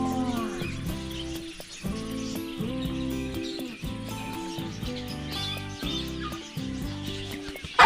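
Jersey Giant chickens, hens that have just begun laying, cluck in low, repeated throaty bursts on a farm, the calls close and fairly loud, with a brief sharp noise at the very end.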